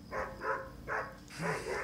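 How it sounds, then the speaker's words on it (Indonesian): A family's pet dog barking four times in quick succession, fairly close and moderately loud, with no one talking. "Suatu ketika, anjing peliharaan keluarga Gana tak berhenti menggonggong"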